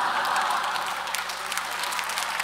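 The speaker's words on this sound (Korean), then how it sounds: "누가 박수 친 사람 뭐야 도대체" Continuous audience applause fills a church summer retreat gathering, a dense, steady wash of many hands clapping at moderate volume with no breaks.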